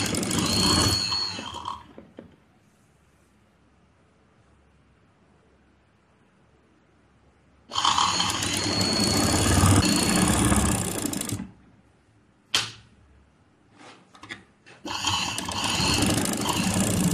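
Sewing machine stitching a lace seam onto a trouser, running in long loud continuous bursts with a steady mechanical whir, stopping for pauses and a brief clack before restarting, close to the listener.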